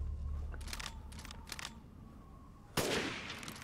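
In Resident Evil Village, sharp gunshots crack through the game's ambient sound, with a few quick reports early on and a louder burst near the end.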